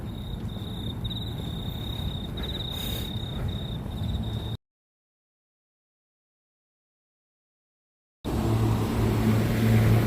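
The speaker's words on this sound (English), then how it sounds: "Hear the crickets." Crickets chirp steadily by a riverside on a walk, a continuous high trill under low outdoor rumble, cutting out briefly midway before the ambience returns.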